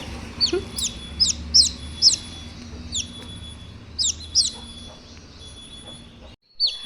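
A hen clucks near her newly hatched dark chicks, with sharp rising calls in quick bursts and thin chick peeps over a low background hum, close by and fairly loud before a brief silence.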